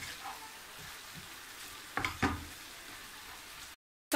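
Meatballs, onion and chicken frying together in a pan with a soft steady sizzle, broken by two sharp scraping stirs with the utensil near the end before it cuts off.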